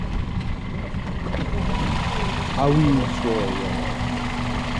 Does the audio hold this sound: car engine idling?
yes